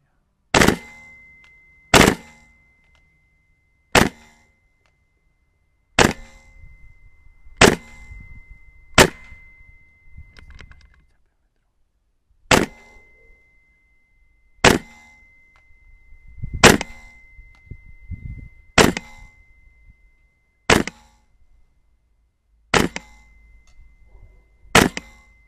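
Single sharp shots from a Noveske N4 gas blowback airsoft rifle running on red gas in cool weather outdoors, around a dozen evenly spaced cracks with a metallic clack of the bolt, each followed by near silence.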